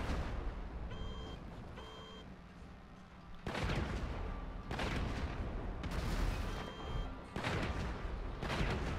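Rapid bursts of gunfire from a laser-armed truck in GTA V Online, loud and harsh, coming in several clustered volleys separated by brief gaps.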